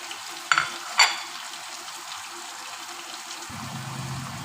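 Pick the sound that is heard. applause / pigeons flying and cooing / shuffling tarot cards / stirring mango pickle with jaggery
stirring mango pickle with jaggery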